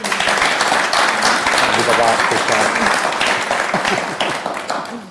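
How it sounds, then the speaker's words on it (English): Loud, dense audience applause at an early learning and childcare hustings, greeting the candidates. It runs steadily for several seconds before tapering off at the end, with voices mixed into the crowd noise. "could we start with a round of applause for our candidates?"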